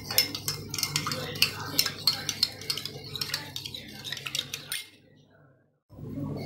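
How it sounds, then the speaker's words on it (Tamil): A spoon clinks rapidly against a small bowl while lemon juice is stirred with turmeric and salt, a close run of bright metallic taps that stops abruptly, followed by near silence. "இப்போ நம்ம லெமன் புளிஞ்சு வச்சுருக்கோம் இல்லையா, அதில் மஞ்சத்தூள் உப்பும் போட்டு கலக்கி வச்சுக்கலாம்"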